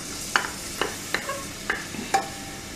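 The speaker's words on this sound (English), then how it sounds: "as the oil is heating, add this finely chopped onions in this" Finely chopped onions are stirred in heating oil in a pressure cooker, with a faint sizzle under a few distinct spoon scrapes and taps against the metal spaced roughly half a second apart, quiet and close.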